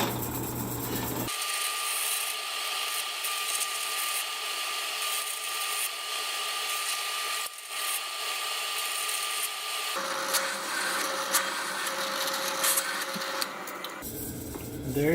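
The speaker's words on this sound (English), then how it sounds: "I'm going to drill those through for some screws that I can put into the legs" A power drill bores screw holes through a steel plate for a workbench, a loud steady grinding whine that shifts in tone a few times and runs alone for about fifteen seconds.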